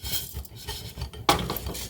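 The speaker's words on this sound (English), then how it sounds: "We want to constantly keep the rice moving around a little bit." A spoon stirring risotto rice in a pan gives soft scraping and light metallic clinks, with one sharper knock against the pan midway; close, quiet and steady, with no voices.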